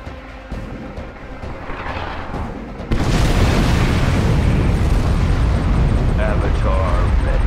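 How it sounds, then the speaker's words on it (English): In the real-time strategy game Command & Conquer 3: Tiberium Wars, a nuclear missile explodes with a sudden loud, rumbling blast that keeps roaring as a dense wash of noise, following lighter battle sounds and game voice lines. "Nuclear missile launched."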